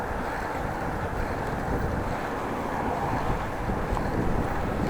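Steady wind roars across an outdoor microphone on a cold, sunny day of about six degrees in Groningen. The rumble is loud and continuous, with no voices over it.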